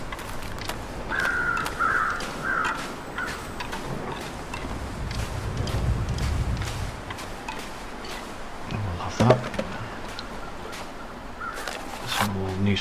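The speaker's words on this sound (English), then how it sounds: "And some crows." Crows caw intermittently in a video game's outdoor scene, with harsh bird calls rising above a steady ambient background of wind and environmental noise.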